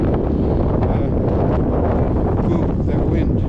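Strong wind blows across deep snow during a big snowstorm dig-out, a loud, constant roar buffeting the microphone with gusty surges throughout.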